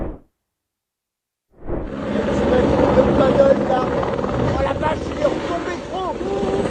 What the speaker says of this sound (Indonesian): Helikopter pemadam kebakaran kehilangan kendali dan terjatuh ke danau di Perancis.